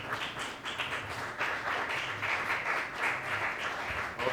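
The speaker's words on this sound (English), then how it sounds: "All right, please give me a round of applause." An audience claps in a moderate, somewhat uneven round of applause at a talk, the clapping fairly soft and distant, swelling slightly in waves, without clear speech.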